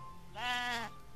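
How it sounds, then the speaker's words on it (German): A single short sheep bleat from the video game Age of Empires III, clear and isolated against a quiet background. "Oder Schafe."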